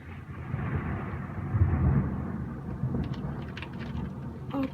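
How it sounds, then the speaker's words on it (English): Distant thunder rumbles low and steady beneath falling rain during a snowy April thunderstorm in England, the roll swelling and fading over a few seconds with light patter on top. "I can actually hear this storm coming. I can hear it in the distance."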